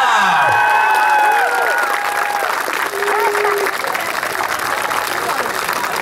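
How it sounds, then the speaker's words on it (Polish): A crowd at a basketball trick show in Koszalin claps and cheers for a performer, loud and sustained at first and then easing to steady applause, with shouts and whistles mixed in. "Wielkie brawo dla Maxa!"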